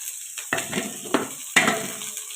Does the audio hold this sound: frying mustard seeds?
yes